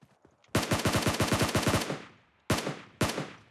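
SCAR assault rifle fire in the mobile shooter PUBG Mobile: a loud rapid burst of about a dozen shots, then two separate single shots after a short pause, each ringing out with a brief tail.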